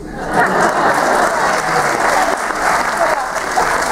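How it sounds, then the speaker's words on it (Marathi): An audience at a live Marathi comedy show in Ashdod, Israel, breaks into loud, sustained applause, dense clapping filling the whole stretch at close, even intensity. "तुमच्या टाळ्या हीच आमची संपत्ती आहे"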